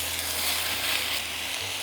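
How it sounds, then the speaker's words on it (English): Mushrooms sear in a hot pan with oil, giving a steady, close hiss of sizzling frying that holds evenly throughout with a low hum beneath. "While those are sizzling away"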